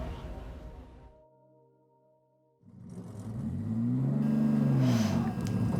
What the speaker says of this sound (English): experience a few minutes on board the GTV race car with a sonorous V6 Busso engine at Zwartkops Raceway